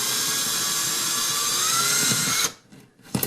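A long concrete drill bit bores through drywall for a round vent hood duct, a loud, steady high whine lasting a couple of seconds before cutting off into short, fading bursts.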